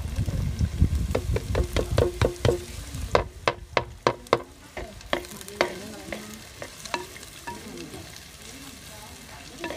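Chopped onions and shallots hit a hot pan and are stirred, giving a steady sizzle with a run of sharp scraping stirs near the mic. The frying stays loud throughout, with no voices.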